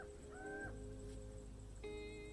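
A bird calls outdoors in the sertão countryside, a few harsh honking, cawing notes heard faintly against a steady background hum.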